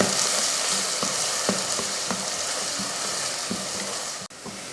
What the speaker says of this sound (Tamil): வெங்காயத்தை நல்லா பொன்னிறமாக வதக்கிக்கலாம்